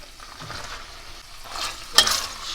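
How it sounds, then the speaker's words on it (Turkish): Onions and diced meat fry in a pot with a soft continuous sizzle as a utensil stirs them, scraping and clinking against the pot, growing louder toward the end. "Şimdi biraz da soğanlarla kavuracağız."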